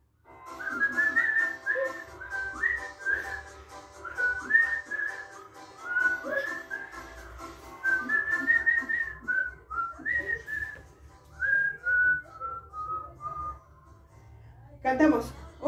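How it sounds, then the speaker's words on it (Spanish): A person whistles a bright, bouncy tune in repeated phrases, with soft background sounds and a brief louder burst at the end. "Vamos a silbar,"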